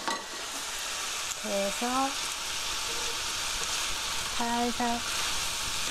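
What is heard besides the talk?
stir-frying garlic, onion and green pepper in a pan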